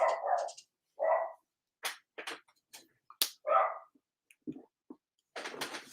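A dog barks repeatedly at a passing delivery truck in short, loud bursts with brief pauses, some sharp yips mixed in, fairly close by.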